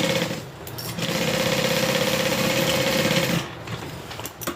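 A sewing machine runs in one steady stretch of about three seconds, stitching the fabric sides of a Colette bag. The motor hums with a fast, even chatter, close and loud, and then stops.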